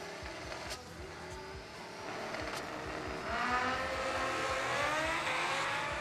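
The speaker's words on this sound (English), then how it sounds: "McNeil driving the turbocharged Mustang out of Michigan." Drag race launch of a turbocharged Mustang from Michigan against a Kawasaki at a New Year Nationals event: loud engine roar that builds and swells as the machines launch, steady and close with no talk.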